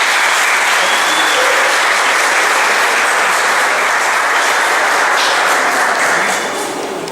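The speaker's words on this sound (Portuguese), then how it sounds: "Recebamos então, com a calorosa salva de palmas," An audience at a school round-table event in Carpina gives a bishop a long, warm round of applause, loud and dense throughout, tapering slightly at the very end.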